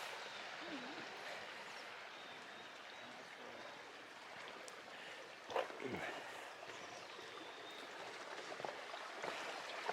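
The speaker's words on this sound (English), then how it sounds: "Here's Raid Creek." A mountain creek along a backcountry trail murmurs steadily in a faint, continuous wash of flowing water, with a brief splash or knock midway and no voices.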